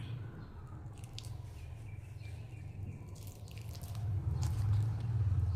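Ripe banana squished and mashed by hand into a maida and wheat flour batter with sugar for sweet tea-shop style bonda: steady, close wet squelching and dripping sounds, continuous and fairly loud throughout.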